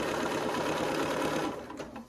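A sewing machine stitches quilt pieces for a heart-ring quilt block in a steady, rapid run that slows and stops near the end, close and clear with no talking.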